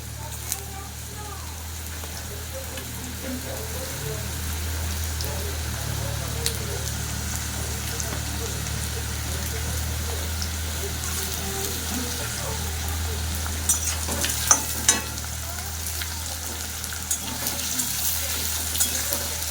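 Potatoes fry in hot oil in a pan for lote fish curry, a quiet steady sizzle with a few stirring clicks and scrapes near the end.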